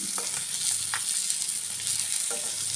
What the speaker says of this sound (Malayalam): ഇരുമ്പ് ചീനിച്ചട്ടിയായിട്ട് ഇതിലേക്ക് നമുക്ക് കറിവേപ്പിലയും കൂടെ ഇട്ട് കൊടുക്കാം